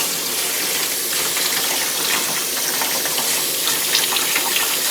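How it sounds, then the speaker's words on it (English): Poi bhaji leaves rinsed under a running tap, a steady close gush of water with light splashing throughout, no talking. "So we are washing out the Poi Bhaji we're going to add to this Kichri here now."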